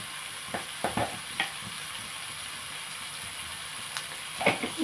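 Ivy gourd cooks in a frying pan as it is stirred, giving a faint steady sizzle broken by several soft scraping strokes of a spoon against the pan.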